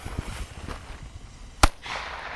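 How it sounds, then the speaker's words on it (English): An M66 firecracker lit by two fuses goes off in one sharp, loud bang after a stretch of quiet outdoor rustle, followed by a brief hissy wash of debris. "here goes the M66 firecracker with 2 fuses"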